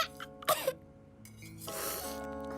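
A cartoon child with a bad cough and a blocked nose gives a sharp cough and a throat-clearing, then a sniffly noise.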